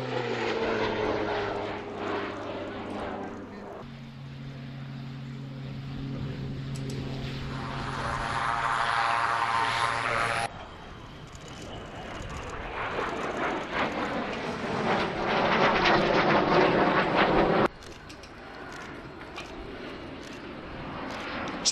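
Display aircraft at the 2011 Cotswold airshow pass overhead with gear and flap extended, propeller engines droning and swelling, some passes louder and nearer, across several abrupt cuts.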